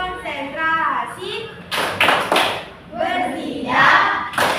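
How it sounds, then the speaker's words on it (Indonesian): Rhythmic clapping from a concentration clapping game in a primary-teacher training class, heard as a few short, sharp clusters of hand claps that break up steady spoken instructions. "Tepuk konsentrasi"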